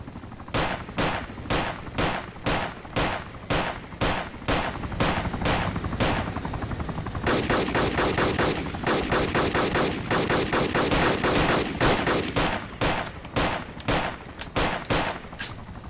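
Loud, close automatic gunfire aimed at a hovering helicopter in DayZ Overpoch rattles out in rapid bursts with short gaps, running almost continuously for sixteen seconds with no talk.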